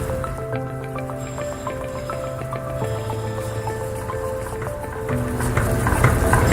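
Samples of organic and human hair are dipped into boiling water, giving soft wet squishing and dripping sounds under quiet background music.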